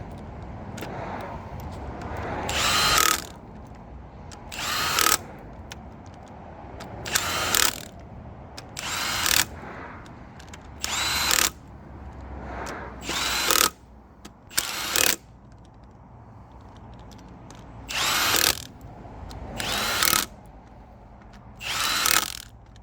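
A power tool tightens the brake disc bolts on a DAF LF horsebox front hub, giving about ten sharp, loud bursts spaced roughly two seconds apart over a steady workshop background.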